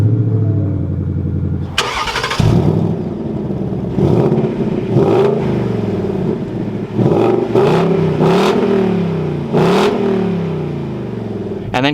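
A 2022 Ford Mustang GT engine cranks and fires up, settling into a deep rumbling idle punctuated by several sharp throttle blips, close and loud.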